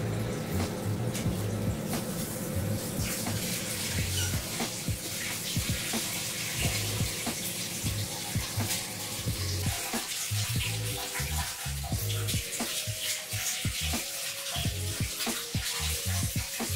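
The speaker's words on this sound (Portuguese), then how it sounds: "Agora nós vamos encher com água" Water pours into a 250 liter aquarium in a continuous, loud splashing and gurgling stream that carries on throughout, with no voices over it.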